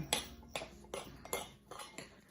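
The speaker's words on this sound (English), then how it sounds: "Okay, I stir this up." A utensil scrapes and clinks against a pan while fried rice with egg and tomatoes is stirred, in a steady series of about six metallic strokes up close, with no talking.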